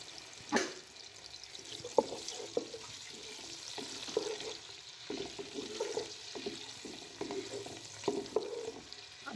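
Sliced onion and two garlic cloves sizzle and crackle steadily in hot oil in a pan for a vegetable pulao, with occasional sharp clinks and scrapes of a spoon stirring, moderately close and with no talking.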